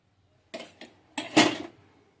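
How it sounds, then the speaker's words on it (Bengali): Fried potato slices are set onto a plate in a few quick clinks and clatters, two light taps followed by a louder cluster of contact, close and otherwise quiet. "যে আলু ভাজাগুলো বানিয়ে রেখেছি সেগুলো প্লেটের মধ্যে দিয়ে দিচ্ছি"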